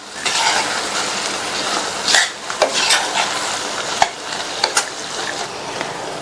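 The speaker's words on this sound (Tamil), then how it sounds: "இதில் நம்ம ஃப்ரை பண்ண வெண்டைக்காயை சேர்த்துட்டு நல்லா மிக்ஸ் பண்ணி விட்டுருங்க." Fried okra being stirred into oily masala in a pan: steady sizzling frying under repeated scraping strokes of a spoon against the pan, with occasional sharp metallic taps.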